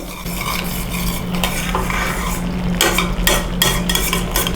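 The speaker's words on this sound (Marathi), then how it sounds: "आपल्याला हे वाटण जे आहे की नाही ते चांग छान असं तेल सुटेपर्यंत परतून घ्यायचं आहे" Spice paste sautéing in oil for shev bhaji, the ladle scraping and stirring steadily through a close, moderate sizzle, with a few clinks of utensils and no talk.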